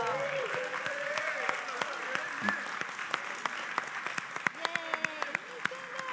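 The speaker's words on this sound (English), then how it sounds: "That's where the applause goes." Church congregation applauding a couple's 54th wedding anniversary, scattered hand claps standing out as sharp individual hits over a murmur of voices, with someone speaking through the clapping.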